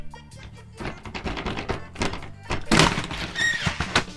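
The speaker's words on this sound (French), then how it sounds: "ça reste une porte accordéon" An accordion-style interior toilet door in a camper-van bus conversion folds shut with a soft thunk and the click of its magnetic catch, close by, while someone talks.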